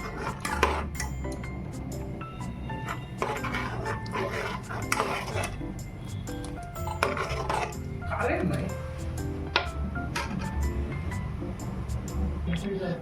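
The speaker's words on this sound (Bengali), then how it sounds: "পনির হয়ে গেছে, আমি এটাকে এখন ছেঁকে নেব।" Homemade paneer (chhana) is strained in a kitchen, with steady clatter and clinks of metal pots, bowls and spoons knocking and scraping throughout, close and busy, with a voice now and then in the background.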